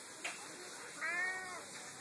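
A cat gives a short meow, a faint chirp first and then a longer rising call, with soft background noise and a little talking around it.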